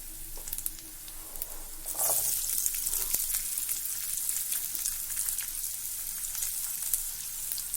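Finely chopped onion sizzles and fries in a hot pan, a steady crackling hiss that swells louder partway through, with a few stirring scrapes and no voices.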